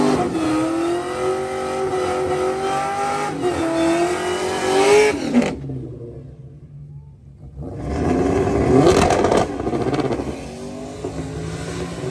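A drag race car engine revs loudly with rising and falling pitch, cuts out briefly to near silence, then roars back up again.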